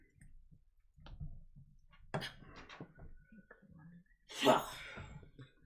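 A single sharp sneeze bursts out near the end, amid quiet clicks and low murmured voices around a tabletop game session.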